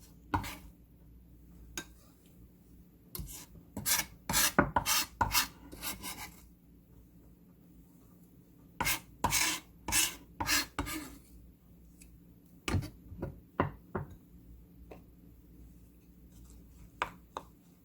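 A spoon scrapes and stirs a Korean seasoning sauce with pepper for cockles in a bowl, making close rasping, scraping strokes in three separate bursts with quiet pauses between them.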